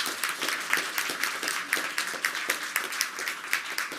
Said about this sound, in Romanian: Haideți să aplaudăm!